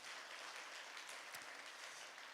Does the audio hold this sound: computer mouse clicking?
no